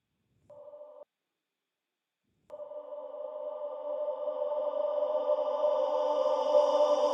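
A reversed sample on an AKAI Force plays as a riser. After a short tonal blip, a sustained electronic tone swells in, with its loudness building and brightening over several seconds.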